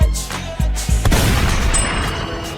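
A gunshot goes off in a film scene, followed by loud booming low-end blasts and a dense, rumbling crash with sharp transients, close and forceful, with no speech over it.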